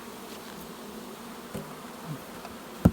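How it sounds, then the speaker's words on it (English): Honeybees bearding and swarming around a small, overcrowded nucleus colony hive, a continuous close low buzzing drone with a few brief knocks and a sharp thump at the end. "these are all bearded up, still swarming here where it's too tight in that little hive there"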